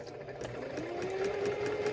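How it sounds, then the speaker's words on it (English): A sewing machine runs steadily while stitching a straight line for a beginner lesson. Its motor whirs and climbs slightly in pitch as it speeds up, with a rapid needle patter throughout. "go ahead and press on your pedal and stitch your straight line"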